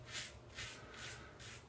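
A Razorock safety razor shaves against the grain in four close, even scraping strokes, rasping rhythmically at a quiet level.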